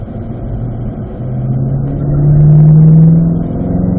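A Corvette engine pulls hard on a race track at a driving school, rumbling low and rising in pitch as it accelerates, then easing off, heard close and alone.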